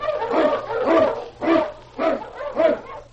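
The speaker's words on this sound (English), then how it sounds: "King, the swiftest and strongest of Eskimo lead dogs, blazes the trail through storm and snow for Sergeant Preston" An Eskimo husky lead dog barks in an old radio drama set in the snowy Yukon, giving five loud, close, evenly spaced barks with a yipping edge.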